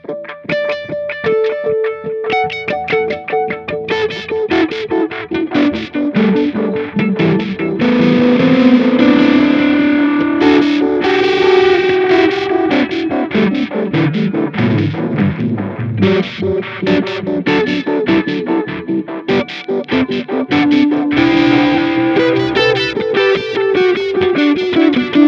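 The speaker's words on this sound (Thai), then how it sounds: "ตรงนี้ก็เปลี่ยนจากดีเลย์เป็นเอ็กโคได้นะโหมด" Electric guitar played through a Line 6 Helix running an echo-mode delay effect, sustained distorted notes and chords trailing repeating echoes, loud and continuous throughout with no talking.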